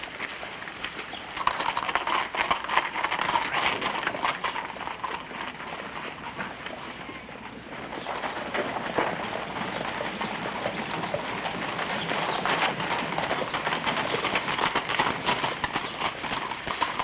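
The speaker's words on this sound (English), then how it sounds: "Billy, take the horses around the livery stable." Horse hooves clip-clop in a steady, continuous rhythm, moderately close, with a few faint bird calls in the background.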